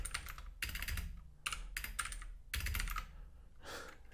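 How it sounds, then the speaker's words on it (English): Quick bursts of typing on a computer keyboard, with dense clattering keystrokes in several short runs separated by brief pauses, close and fairly quiet. "The keyboard, it's the keyboard"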